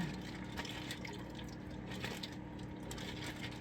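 Running water splashes steadily as asparagus spears are rinsed in a kitchen sink, a continuous close wash of liquid with faint dripping and no talk.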